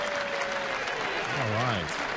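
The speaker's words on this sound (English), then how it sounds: "That's why you hear the fans cheering." Baseball fans at a Brewers spring game cheer and applaud as the home plate umpire returns to the field, a steady distant crowd roar while a commentator talks over it.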